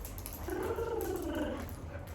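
A dog growls softly during play with a rose-shaped toy, a low, rumbling grumble that swells in the middle and fades, heard close but quiet with no talk.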